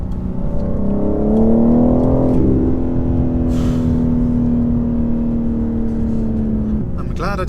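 A 2023 BMW M4 Competition xDrive engine pulls hard under acceleration, its rising drone climbing and holding steady from the cabin, with a brief whoosh partway through and no talk over it.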